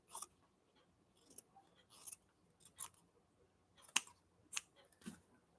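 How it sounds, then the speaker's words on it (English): Scissors snip through quilt fabric trimmed off a quilt, a series of separate crisp cuts at irregular intervals, fairly close but soft, with no talking. "I just have to cut it loose from this other piece because this was part of a quilt that I trimmed off"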